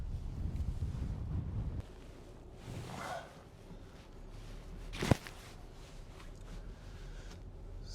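Steady low rumble and wind rush inside a moving car, with a brief swell of passing noise and a sharp knock partway through, no talking.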